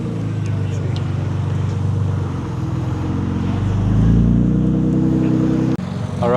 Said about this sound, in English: Kristen's leaving in the Mark IV Supra